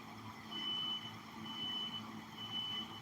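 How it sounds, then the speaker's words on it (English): An electronic alarm outdoors beeps like a truck's reversing signal, three evenly spaced high tones sounding faint and distant over a low background rumble. "I don't know if you guys can hear that random alarm going off"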